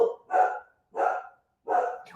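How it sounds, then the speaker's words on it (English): Dog barking indoors in three loud, close barks at a steady pace with short pauses between them. "Oh look, there goes my dog's barking."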